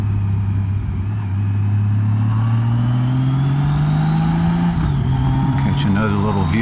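Car engine on a tight mountain road, Shenandoah Mountain, Virginia, its steady drone rising in pitch then dropping sharply near the end as the driver downshifts, loud and continuous.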